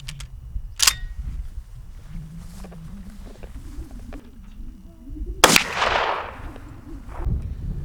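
A 12 gauge shotgun with a modified choke fires Black Aces Tactical buckshot, two sharp, loud blasts a few seconds apart, each trailing off into outdoor echo.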